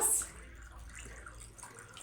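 A kitchen tap keeps running while a piece of meat is rinsed for Saudi kabsa, giving a steady, quiet wash of water with a brief brighter splash at the start.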